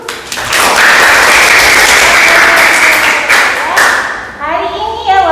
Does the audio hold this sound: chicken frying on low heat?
no